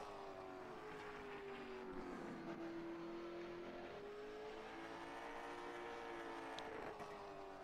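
Race cars heading out onto the circuit for a NARL qualifying session, a steady engine drone with a slowly shifting pitch and rising and falling tones, heard at moderate distance throughout with no talk.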